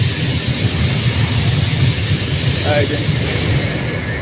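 A double-decker electric train at a station in Milan gives a steady low rumble and hum, close and fairly loud, with people talking over it.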